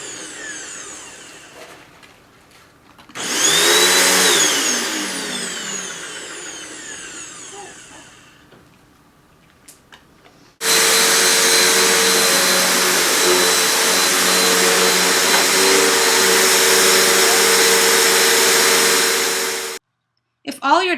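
A vacuum cleaner whines up, runs and winds down, then starts again and roars loudly and steadily for several seconds before cutting off abruptly.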